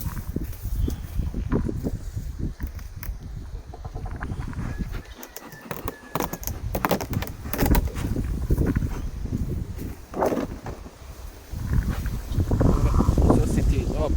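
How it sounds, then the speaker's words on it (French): Wind gusts outdoors at beehives during a winter varroa treatment. Uneven rumbling buffets hit the microphone and swell strongly toward the end, mixed with close handling noises. "il y a du vent"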